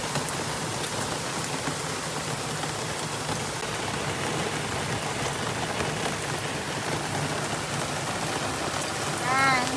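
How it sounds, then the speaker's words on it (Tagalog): Heavy rain hammers down in a constant roar while a broken-down service vehicle sits stalled in Israel, with a short brighter tone rising near the end. "sobrang lakas ng ulan"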